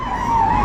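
An ambulance passes on a road in Kerala, its wailing siren tone rising briefly over traffic noise in a short, moderately loud burst.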